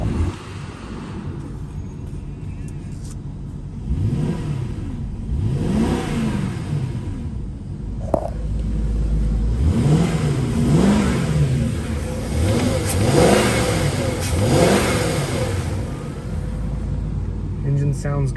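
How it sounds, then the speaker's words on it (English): The V8 engine of a 1997 Jaguar XJ8 revs repeatedly outdoors, smooth rising and falling swells over a steady idle, fairly quiet, with wind noise. "Engine sounds good."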